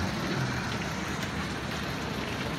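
Hail and rain pour down in a storm in Motueka, New Zealand, heard from indoors as a steady, dense, loud hiss and patter with no pauses and no voices.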